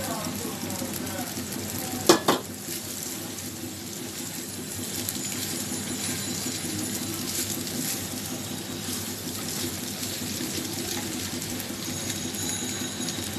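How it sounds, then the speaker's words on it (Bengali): Maggi masala noodles tipped into a hot pan and stirred with masala, a steady low sizzle with a brief clatter of utensil against the pan early on. "এখন নুডলসগুলো দিয়ে দিচ্ছি।"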